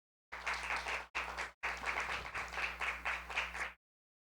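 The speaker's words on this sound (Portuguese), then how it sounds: "Palmas, por favor." Audience applause at a talk on ESG and social innovation, quiet steady clapping in three short bursts with brief gaps, fairly close but soft, ending abruptly.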